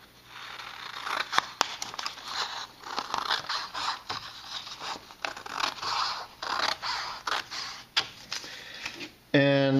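Paper being cut with scissors to remove a sheet for a paper rocket: close, soft snipping and scraping strokes at an irregular rhythm, ending with a brief rattle.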